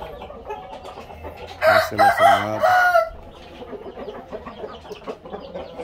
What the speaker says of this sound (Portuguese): Aqui o frango que eu gosto também.